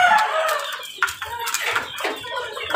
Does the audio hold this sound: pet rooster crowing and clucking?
yes